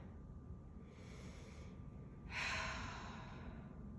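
Quiet, steady breathing during a yoga sculpt session, a soft airy exhale or sigh standing out midway against a low, constant room hiss.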